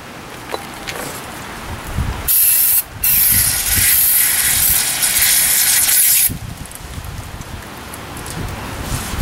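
A loud, hissing spray of cleaner washes old grease out of brake caliper pins on a 2000 Toyota Avalon front brake. It runs about four seconds with a brief break, then stops, leaving quiet rustling.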